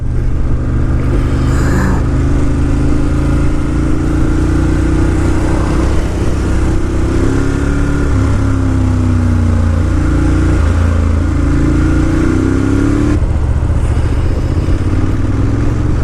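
A 2018 Ducati Monster 1200S being ridden gives a loud, continuous engine drone with wind rush, its pitch rising and shifting with acceleration and gear changes throughout.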